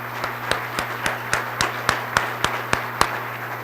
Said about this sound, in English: Board members, I would ask you to please stand for a round of applause